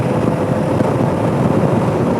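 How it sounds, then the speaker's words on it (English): A helicopter flies overhead during a vlog walk through streets strewn with Hurricane Beryl debris, its steady broadband rumble and rotor wash continuous and loud throughout, with no talking. "Helicopter, cool, cool."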